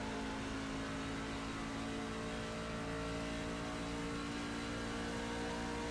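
A race car engine in an iRacing sim race drones with a steady, loud whine and hum, sustained without break and with no voices.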